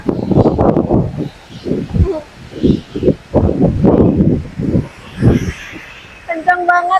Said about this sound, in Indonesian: Kencang banget anginnya. Ini kena mic-ku